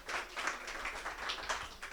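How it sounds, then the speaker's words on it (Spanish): An audience at a music school talent program claps for a young contestant, with fairly faint, steady applause running throughout and no voices. "Fuerte los aplausos para nuestro querido joven."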